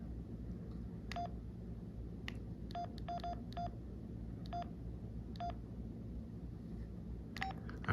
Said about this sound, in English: I'm sure there's a way to turn off that beeping sound in the settings too.